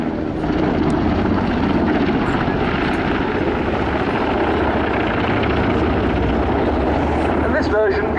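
German Army Aviation NH90 TTH transport helicopter flying at an airshow, a loud steady rotor and turbine roar that holds throughout, with crowd noise and voices faintly mixed beneath.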